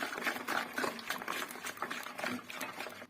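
Cake batter with citrus juice and added table oil being beaten by hand in a bowl, a steady fast wet sloshing and slapping rhythm that runs continuously at close range without voices.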